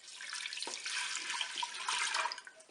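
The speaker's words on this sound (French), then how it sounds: "On va verser le lait." Milk poured over rice into a Cookeo electric cooker pot, a steady liquid pour with soft splashing, close and fairly quiet, lasting a couple of seconds.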